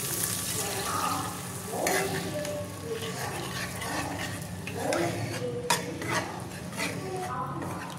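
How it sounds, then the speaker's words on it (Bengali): Coconut milk is poured into fried spice paste in a pan for a Bengali-style rui fish dish and stirred, giving close, steady sizzling and stirring with a few spoon clinks and soft bubbling, under faint background voice. "এবার এর মধ্যে আমি নারকেলের দুধটা দিয়ে দেবো।"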